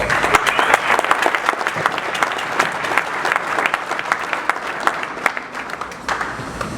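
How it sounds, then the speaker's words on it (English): Steady applause from a crowd honoring the archivists at a Gilman McDonogh reunion weekend gathering, dense clapping sustained throughout with sharper individual claps popping out, fairly close and loud. "They deserve a round of applause"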